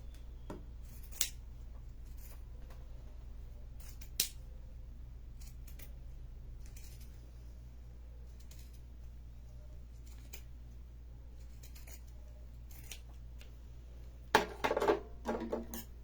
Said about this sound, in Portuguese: Aqui a tesoura dá uma mastigadinha porque tem muito tecido, né?